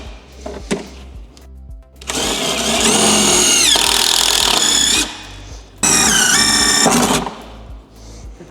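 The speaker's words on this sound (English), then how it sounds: "So I'm going to put my hole right about here, just beneath our saddlebag bolt to secure it in place on this flat panel right here." A power drill bores holes in a flat panel of a 2024-2026 Road Glide motorcycle, with two loud close-up whining bursts of several seconds each, rising and falling in pitch as the bit cuts, split by a short pause.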